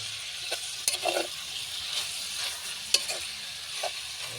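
Sliced lechon belly sautés with mung beans in a pan: a soft, continuous sizzle broken by several light stirring scrapes and knocks, close by and fairly quiet.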